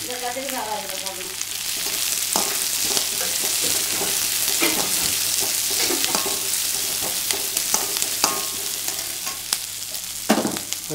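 Brinjal stir-fries with onions in a pan for a Srirangam-style katharikkai pulav, giving a steady close sizzle broken by scraping stirs and clinks.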